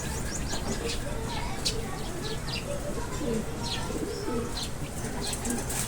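Homing pigeons returning to a loft coo amid continuous chirps and outdoor bustle, with a person talking over the birds throughout.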